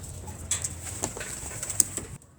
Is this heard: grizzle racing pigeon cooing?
yes